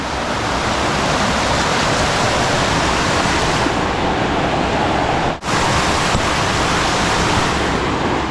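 A strong river current roars in a loud, dense, continuous rush of water, close by and unbroken except for a split-second dip midway.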